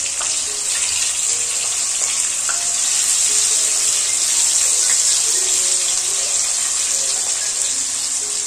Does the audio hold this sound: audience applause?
no